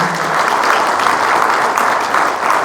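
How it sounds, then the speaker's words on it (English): A crowd at a political event applauds, dense steady clapping filling the whole moment, loud and close with no speech over it. "Moon Khan deserves a round of applause."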